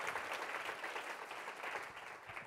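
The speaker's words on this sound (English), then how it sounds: "let's all please join me in a round of applause for all of our sponsors" Steady applause from a conference audience at a women-in-cyber event, a dense even patter of many hands clapping, moderately distant and quite faint, with no voices over it.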